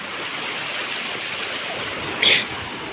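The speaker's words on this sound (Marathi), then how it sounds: "खूप प्रवाह आहे पाण्याचा" Strong, steady rushing river water in flood roars continuously, a broad dense flow close by with a brief brighter splash near the end.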